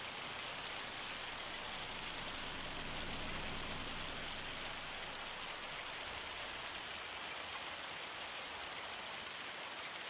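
Hail pelting down steadily in a farm simulation video game, a dense, continuous hiss of many small impacts that stays loud and even throughout with no pauses.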